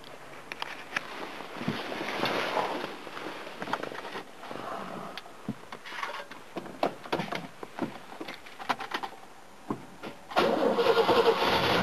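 A Mercedes car engine is cranked and started, with irregular starter clatter and sputters before catching into a steady, louder running idle near the end, close to the microphone and with no speech.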